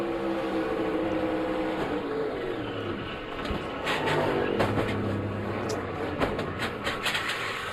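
A NASCAR stock car engine at the Daytona 500 lifts off the throttle, a steady loud roar with shifting pitch and several dips in level, joined by the wash of other cars, with no talk over it.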